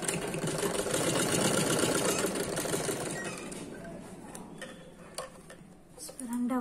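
A sewing machine runs a steady close whir while stitching a petticoat seam, then slows and fades into light clinks and handling sounds before a brief final burst.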